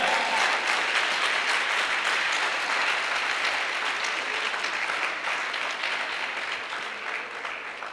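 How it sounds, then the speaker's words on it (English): Audience at an entrepreneurship summit claps steadily and fairly loudly, the dense applause holding throughout and easing slightly near the end. "If you are clapping, clap well."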